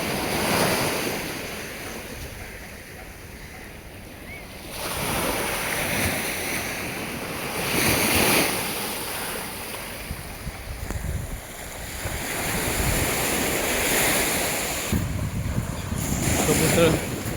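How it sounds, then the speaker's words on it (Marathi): Sea waves break on the shore at Dadar Chowpatty beach in Mumbai, near placed cement blocks, in a continuous loud wash with rising surges every few seconds and heavy wind buffeting the microphone. "किनाऱ्यावरती लाटा वगैरे समुद्राचे येत आहेत."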